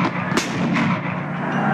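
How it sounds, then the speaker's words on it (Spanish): Two loud gunshots ring out in quick succession during a battle, each a sharp crack followed by a heavy, booming echo over a rumbling background. "súbitamente se oyen dos disparos"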